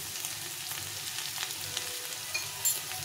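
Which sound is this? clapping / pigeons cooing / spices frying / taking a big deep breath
spices frying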